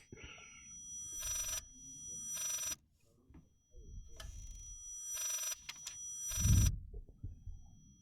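Old telephone ringing in the horror video game Layers of Fear, a series of loud repeated ring bursts separated by short pauses, with a voice speaking faintly between rings.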